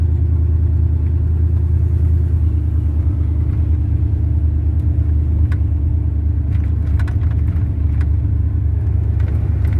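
A car drives along a residential street, heard as a steady, fairly loud low rumble of its engine close by, continuous with no voices.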